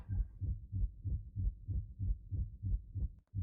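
Heartbeat effect from the video game Choices: Stories You Play, chapter 17 of It Lives Beneath. About a dozen soft, muffled low thumps pulse at a quick, even pace with no voices over them.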